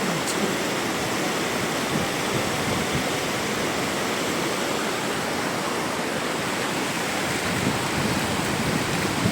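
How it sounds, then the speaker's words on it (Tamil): Water pours over the Thalaiyanai dam at Papanasam, making a constant, loud roaring rush of falling water that stays even and close for the whole stretch without talk. "நீங்கள் பாருங்கள் அங்கே ஒரு இடத்துல தண்ணீர் விழும் அற்புதமான ஒரு"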